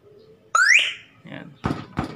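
An MP3 alarm unit gives a loud, short rising electronic tone, followed by a couple of weaker bursts, with a person talking nearby.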